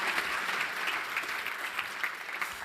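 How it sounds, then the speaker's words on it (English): A conference audience at a sustainable aviation congress claps in a round of applause, a steady but fairly soft and distant patter of many hands lasting a few seconds. "Ladies and gentlemen, a big round of applause."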